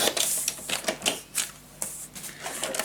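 A paper trimmer cuts an 8 by 10 inch sheet of paper for a papercraft treehouse box, giving a quiet series of close crisp clicks and slicing rasps in an irregular rhythm, with no talking.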